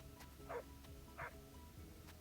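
David the dog, a small video-game dog, gives two short yipping barks about a second apart, faint and fairly close, over a quiet ambient background.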